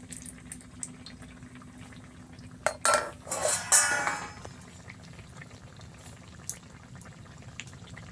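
Pitha made of bottle gourd, semolina and flour fries in hot oil in a village kitchen. A soft bubbling sizzle flares into louder crackling bursts with utensil clinks, then settles back to a gentle fry.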